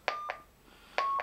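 Four short electronic keypad beeps in two quick pairs as a frequency is typed into a Luiton LT-898UV handheld radio, clear and close in a quiet room.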